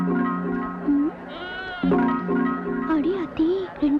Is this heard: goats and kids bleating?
yes